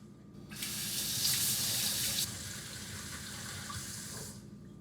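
Tap water gushes steadily from a kitchen faucet for a few seconds while a spoon is rinsed, a broad close hiss that starts abruptly and fades out at the end.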